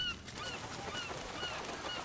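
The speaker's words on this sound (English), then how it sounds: "Birds, making the islands their breeding ground, fight for the best plot on this real estate." Seabirds, including black-tailed gulls, call from a crowded island breeding colony on an inland sea, with several honking, goose-like cries repeating over a steady wash of background noise.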